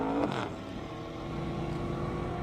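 Race cars, including a BMW M5 and a Z06 Corvette, pass on an airstrip track, a loud engine roar that swells and fades with a steady droning tone throughout.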